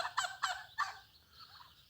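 A turkey blocking a road gobbles in three quick rattling bursts, close and loud, then trails off into softer warbling calls and fainter bird chatter.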